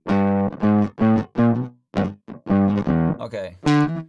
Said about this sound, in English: And then we're gonna add some distortion as well.